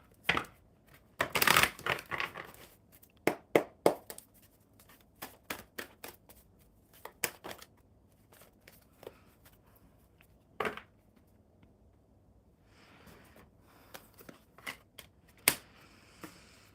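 Oracle cards being shuffled and handled on a live stream, giving a loud burst of riffling near the start followed by scattered sharp card snaps and flicks, close and alone with no talking.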